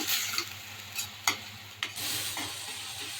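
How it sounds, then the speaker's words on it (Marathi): Onion sautés with bay leaf and asafoetida in a pan, a soft sizzle broken by several distinct scrapes and knocks of a stirring spoon, close and fairly quiet. "कांदा छान परतून घेऊया"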